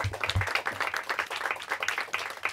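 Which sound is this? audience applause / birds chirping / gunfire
audience applause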